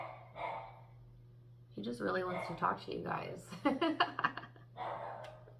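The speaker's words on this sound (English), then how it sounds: "I don't know what he's barking at now." A pet dog makes soft, close barks and yips mixed with huffing breaths, partly overlapping a person speaking calmly nearby.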